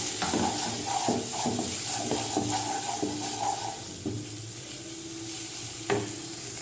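Kashmiri chili powder and spices being stirred together in a pan for a Bengali katla posto dish, with steady scraping strokes over a soft sizzle, close and fairly loud, no talking.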